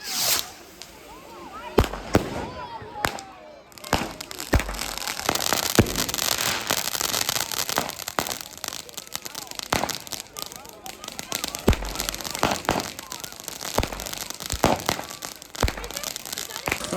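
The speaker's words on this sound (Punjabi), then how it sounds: "ਉਹ ਪਟਾਕੇ ਹੈ ਹੀ ਬਹੁਤ ਆ" Diwali firecrackers go off in a rapid, irregular string of sharp cracks and bangs, loud and close, while people talk over them.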